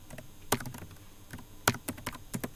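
Quick, crisp clicks of a computer keyboard while code is typed, a few sharp keystrokes in uneven bursts, close and clear with nobody speaking.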